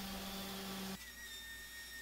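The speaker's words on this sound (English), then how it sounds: "And another sanding" A power sander works on a wooden bar stool, a steady high whine with a fuller tone that drops in level partway through as the pressure or contact changes.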